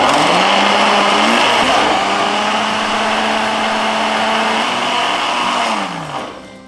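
A blender motor whirs loudly and steadily for several seconds while blending a reduced cream sauce, its pitch dipping and rising slightly, then spinning down at the end.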